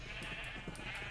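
Sheep bleat in the blocky modded world of Gregtech New Horizons, the game's baa calls coming faint and repeated, several short cries spread over a steady low background hum.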